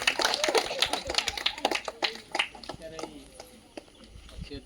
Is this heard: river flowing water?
no